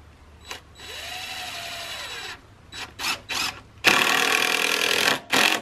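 Cordless drill driving 2 1/2 inch exterior deck screws into wooden boards for a farm wagon: a long whirring run, several short bursts, then a loud final drive, close and with no talk.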